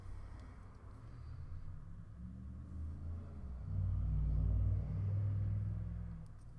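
Road traffic rumbling nearby: a low, continuous drone of passing vehicles that swells louder toward the middle as a car passes, then eases slightly.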